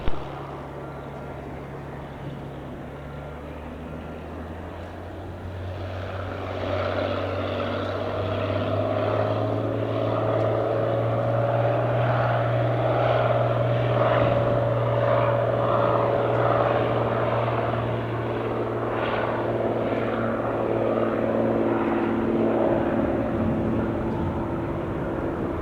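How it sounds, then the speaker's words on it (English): A Cirrus propeller airplane takes off from runway 26 left at Spirit of St. Louis Airport, its engine droning steadily and swelling louder and closer as it powers up and climbs out, with no talk over it. "runway 26 left, Alpha 2, clear for takeoff"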